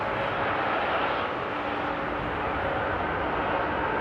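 A KLM airliner lands in the rain at Amsterdam Airport, its steady, broad jet roar filling the clip with a faint whine running through it, loud and continuous with no voices.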